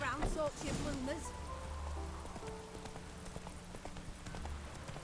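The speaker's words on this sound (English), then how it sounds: "it's raining" Steady patter of rain in The Witcher 3: Wild Hunt video game, with scattered drops and soft clip-clop hoofbeats, while a voice speaks briefly near the start.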